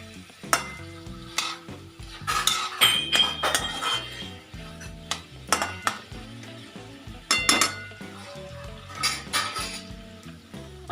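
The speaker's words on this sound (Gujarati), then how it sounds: "નાખીને આપણે હલાવી દઈએ." Carrot and capsicum sabji stirred in a metal pan, with repeated scraping clinks of a spoon against the pan in uneven bursts over a soft sizzle, close up with no talking.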